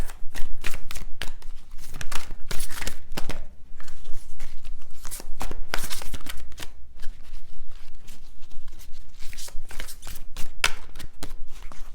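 Tarot cards are shuffled close up in quick, repeated riffling bursts with short pauses between, crisp and loud with no talking.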